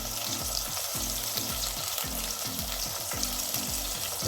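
Curry leaves fry in oil over medium heat for a Malaysian curry laksa base, giving a steady, dense sizzle and regular stirring strokes, close and continuous.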